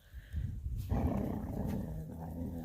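Two dogs, one big and clumsy and one small, growl low and continuously as they squabble over a bone, close by but fairly quiet, with no barking.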